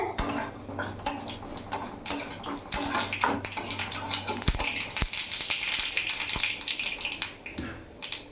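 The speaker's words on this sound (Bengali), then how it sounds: "এতক্ষণে ভাজা হলো, চড়বড় চড়বড় করলো, ভাজা হলো।" Five-spice, whole mustard seeds and dried chillies crackle and splutter in hot oil on a gas flame, a dense run of sharp pops and sizzles that stays close and busy throughout, with no talking.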